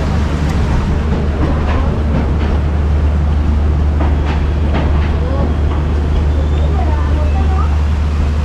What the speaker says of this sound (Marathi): आता ही ट्रेन एवढी चालली आहे ना